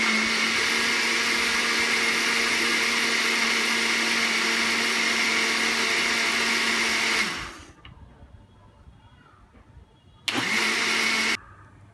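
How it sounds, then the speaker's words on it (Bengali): A blender whirs loudly and steadily, blending homemade mayonnaise with olive oil, then stops, leaving near silence before a second short burst of blending that cuts off abruptly. "আবারও ব্লেন্ড করে নিব 1 মিনিটের মতো।"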